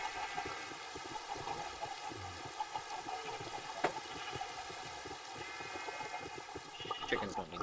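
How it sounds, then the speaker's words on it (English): Steady rain falls in the Minecraft video game, a continuous even hiss of water that runs without a break from start to finish at a moderate, close level. "Hopefully the rain goes away."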